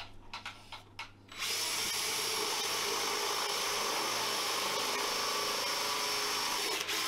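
A few clunks, then a power drill runs continuously at a steady high whine, close and loud, with no talking.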